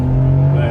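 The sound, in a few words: BMW E53 X5 engine accelerating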